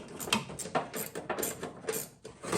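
A ratchet wrench clicks in quick irregular bursts while bolts come off a Chevy K10 pickup, the mechanical ratcheting fairly close and moderately quiet with no talking over it.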